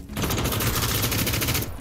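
Rapid automatic gunfire in the PUBG battle royale game, a dense burst of many quick shots fired in continuous succession for under two seconds, loud and close.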